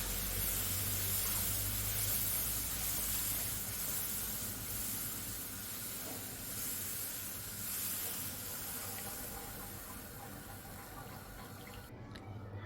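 Milk, about two large cups, pours into a pan while being stirred, a steady hissing, sizzling wash that slowly fades over several seconds, with no voices.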